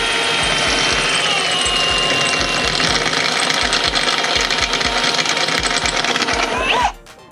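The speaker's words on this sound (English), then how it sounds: "let's drill this out." A power drill bores out a rivet on an off-road vehicle's full skid plate, whirring loudly and steadily with rhythmic chattering for about seven seconds before cutting off abruptly.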